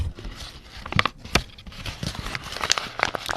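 A beeswax food wrap with tape on its underside is crinkled up close, giving a few sharp crackles among softer, patchy rustling over a few seconds.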